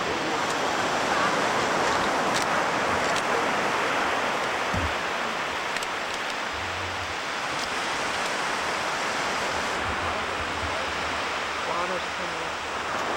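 Water surging in along the Yukon, a steady broadband wash of moving water and surf that runs the whole time, with a few brief low thumps and no talking.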